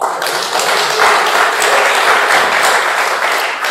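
Loud audience applause, dense and sustained, many hands clapping together for several seconds with no speech.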